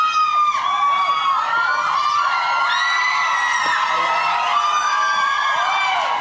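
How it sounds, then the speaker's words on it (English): A crowd of fans screams and whoops for Justin Bieber at a television appearance, loud sustained high-pitched shrieking that fills the whole stretch. "Bit of screaming there."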